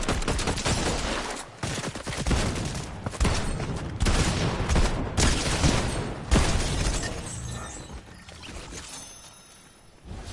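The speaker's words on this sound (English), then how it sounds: "I know I'm getting shot at." Rapid gunfire in a Fortnite match, loud sustained bursts of shots and impacts that keep coming in clusters before easing off toward the end.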